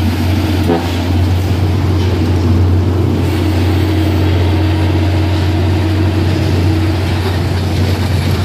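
A Nissan car engine runs as a loud, steady low drone with a constant hum throughout, heard up close and alone without any talk.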